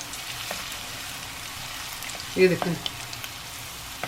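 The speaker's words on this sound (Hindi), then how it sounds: "थोड़ा सा फ्राई हो जाए, अब मैं इसमें तेज़ पात डाल देती हूँ।" Ginger and bay leaves fry in oil over medium heat for a ginger chicken karahi, giving a soft, steady sizzle throughout, with someone briefly speaking over it partway through.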